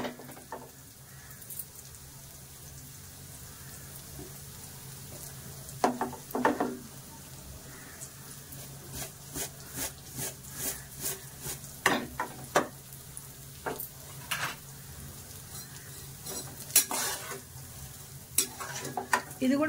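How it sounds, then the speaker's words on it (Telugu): Semiya vermicelli frying in a pan gives a low continuous sizzle broken by frequent clicks and scrapes of stirring, busier in the second half, close-up and fairly quiet with no voices. "బాగా ఫ్రై అవుతాయి."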